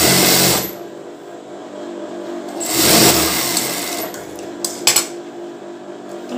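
Sewing machine stitching a folded bra strip, a loud motor whir in bursts that stops and starts, with a couple of quick clicks near the end.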